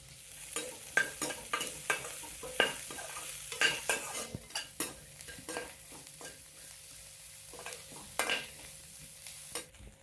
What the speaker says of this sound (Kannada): ನೋಡ್ಬೋದ್ರಿ ಈಗ ಮೆಣಸಿಕಾಯಿನೂ ಅದ ಎಣ್ಣೆ ಒಳಗಡೆ ಚಲೋ ತಂಗಿ ನಾವು ಫ್ರೈ ಮಾಡಿದ್ದೇವೆ ರೀ